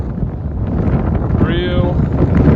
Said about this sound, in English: I'm gonna unplug it from the headphones quick so you can hear this wind.